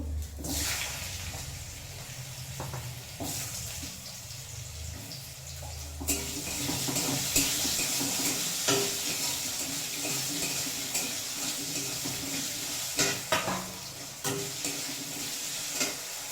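Potatoes frying in a pan in a village-style home kitchen, with a steady sizzle and intermittent stirring scrapes that grow louder partway through, alone without talk.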